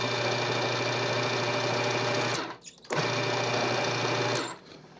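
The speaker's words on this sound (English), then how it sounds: "I just want to blend it just a little bit to kind of mix everything up." A kitchen blender pulsing to mix snack ingredients: a loud, steady motor whir that cuts out twice in short stops, close up with no talk.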